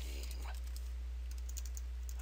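Light clicking keystrokes on a computer keyboard at a steady pace, faint and close, with no one speaking.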